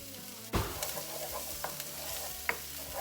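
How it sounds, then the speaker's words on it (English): Chopped shallot and crushed garlic fry in a pan, a soft steady sizzle broken by a sharp utensil clatter and a few light scraping stirs, with no talking. "we're just going to fry this up for like 2 minutes till the shallots nice and soft"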